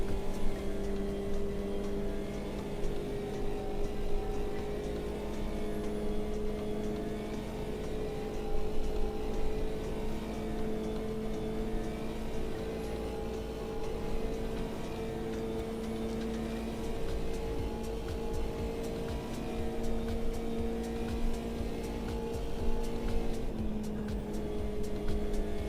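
Race car engine in Automobilista 2 at Monza, sounding rough and out of tune, drones continuously with a steady whining tone that rises and falls gently through gear changes and throttle, with no voices over it.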